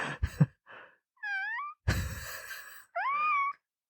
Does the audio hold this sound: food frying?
no